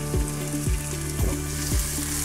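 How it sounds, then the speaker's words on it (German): Olive oil sizzles steadily in the hot pan of a cook4me multicooker, a continuous close frying hiss with soft rhythmic low thumps underneath. "Dann geben wir jetzt mal ein bisschen Olivenöl rein. Ist auch heiß genug."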